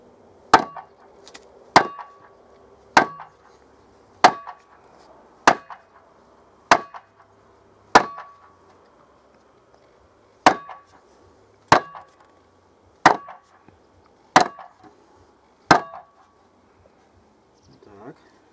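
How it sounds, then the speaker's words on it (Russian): Regular, sharp hammer blows drive a wooden handle onto a shovel head, about fourteen evenly spaced strikes ringing close and loud with short decays and a brief gap midway. "Так, еще чуть-чуточку сейчас подзабьем."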